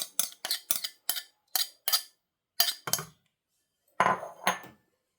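A utensil taps and scrapes against a jug while mashed banana is added, a quick series of sharp clinks in irregular bursts, close and clear, with silence between.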